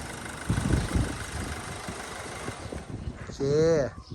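A 2008 four-door Nissan Navara pickup with a 2500cc engine runs at a low, steady idle while voices talk nearby, with a short rising and falling tonal sound near the end.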